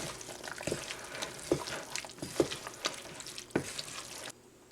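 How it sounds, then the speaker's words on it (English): A spoon stirs vegetables into a salmon casserole mixture in a pan, giving wet, sizzling scrapes and a few sharper knocks at an uneven pace, close up with no talk, before the sound cuts off near the end. "And give that a stir."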